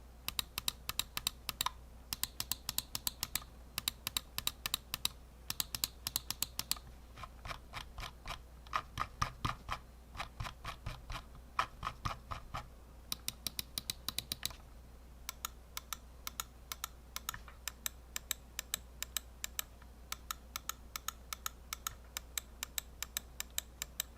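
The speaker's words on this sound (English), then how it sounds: "the blue Huano switches. These switches are rated for 50 million clicks and they are extremely tactile and very satisfying to actuate" Rapid sharp clicks from the blue Huano switches of a Ducky Feather gaming mouse, fired in bursts and long steady runs of close, crisp, tactile clicking with no talk.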